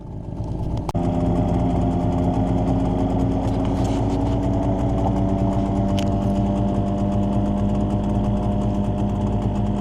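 A Suzuki 9.9A/DT15A outboard boat motor running steadily on a river during break-in, a continuous droning hum at constant speed after a brief sharp click at the start, loud and close.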